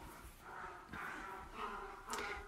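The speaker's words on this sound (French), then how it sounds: "Mes chiens se battent en haut." Dogs fighting upstairs in a home, heard faintly from a distance as muffled growls, yelps and whimpers in several short bursts under quiet room noise.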